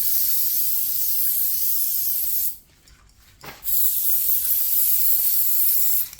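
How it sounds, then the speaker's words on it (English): Steady hissing spray of case lubricant from an aerosol can onto .223 Rem cartridge cases for reloading, close and loud, with one short break in the middle before the spraying starts again. "We basically just spray this from all 4 sides."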